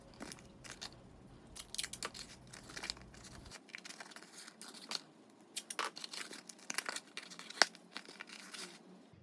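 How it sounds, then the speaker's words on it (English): Masking tape being pulled and pressed onto cardboard head pieces for a nutcracker, quiet close crinkling and tearing rustles in irregular bursts. "using some masking tape, tape the darts together"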